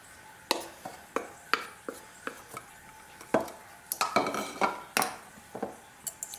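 Sugar mixture being put into a pot in a kitchen, a series of sharp clinks and knocks of metal and glass at irregular intervals, close and fairly quiet with no voice.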